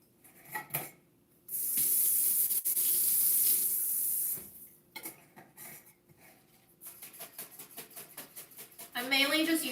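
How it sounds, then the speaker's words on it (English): Tap water runs into a jar being rinsed, a loud steady gush that starts and stops, with clinks of glass and handling around it, followed by a burst of quick splashing; a voice talks briefly near the end. "I'm mainly just using more water here to rinse out this jar"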